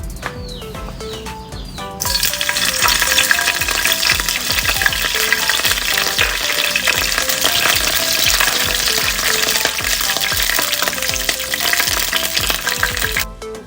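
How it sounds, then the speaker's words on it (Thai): Kaffir lime leaves dropped into hot oil in a pan set off a loud, steady crackling sizzle that starts after a brief quieter opening and runs unbroken almost to the end. "ตั้งกระทะใส่น้ำมันนะคะเมื่อน้ำมันร้อนแล้วเราก็เอา นี่ค่ะ ใบมะกรูดลงไปทอดนะคะ"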